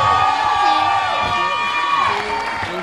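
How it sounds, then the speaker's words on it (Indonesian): A television talent show crowd in Indonesia cheers and shouts for a percussion duo in the finals: a loud, continuous roar of voices over sustained music, with scattered applause blended in. "tepuk tangan sekali lagi untuk Duo Percussion"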